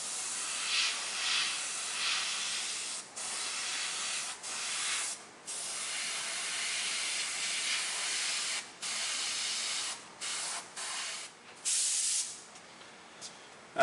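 An aerosol spray can sprays black paint over a stencil in a long series of steady hissing bursts separated by short pauses, close and fairly loud, with no talking.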